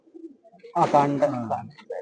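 Sancheri pigeons coo in a pigeon loft, a close, throaty rolling coo rising after a few soft calls, with a further brief coo at the end and no speech.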